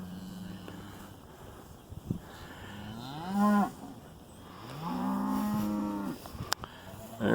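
Cattle being moved along a fence line low repeatedly, with two long, loud moos standing out clearly in the middle of the stretch and fainter lowing before them, no talking.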